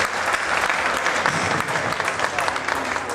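Audience applause at a presentation and judging of a sport horse gelding: steady, dense clapping throughout, fairly close and loud, with no break.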